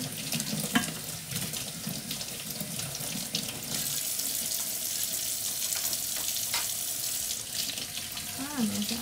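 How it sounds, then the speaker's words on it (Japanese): Steady running warm tap water splashing into a sink with light clinking of dishes as they are washed, continuous and close, with no talking. "もうそろお皿洗いが終わります。"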